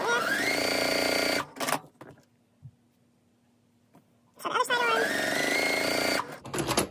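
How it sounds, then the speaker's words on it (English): A sewing machine stitches attic window quilt pieces together in two steady runs, each about a second and a half long, separated by a quiet pause with faint handling sounds. "and then just sewing those on"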